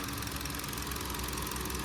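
A 2023 Hyundai i20 facelift's 1.2-litre naturally aspirated four-cylinder Kappa petrol engine idles in a steady, low, even hum with a faint rhythmic pulse, close and unbroken, with no talking.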